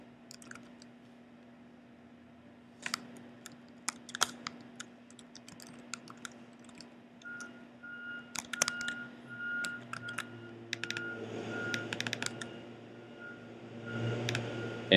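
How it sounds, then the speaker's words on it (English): Typing a domain name on a computer keyboard during Google Apps signup, with quiet, irregular key clicks in short bursts over a low steady hum. "And so that's what we're going to type in right now."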